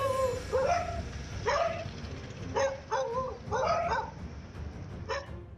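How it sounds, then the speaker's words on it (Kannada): Street dogs in Bengaluru's Madivala area bark and yip in a pack, with several sharp overlapping barks in uneven bursts, fairly close and loud against low street rumble. "ಗುಂಪಾಗಿ ಎಂಟ್ರಿ ಕೊಡುವ ಬೀದಿ ನಾಯಿಗಳು ಡೆಡ್ಲಿ ಅಟ್ಯಾಕ್ ಮಾಡ್ತಿವೆ"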